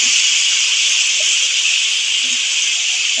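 Egg curry masala sizzles and steams in a pan after water is added, a loud, steady broadband hiss that stays constant and close, with a few faint clinks underneath.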